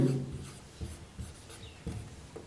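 Pen or chalk writing out a maths solution for the surface area of a cube, heard as a series of short scratchy strokes in bursts, close and fairly quiet, with no talk.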